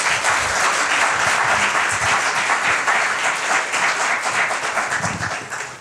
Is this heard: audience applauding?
yes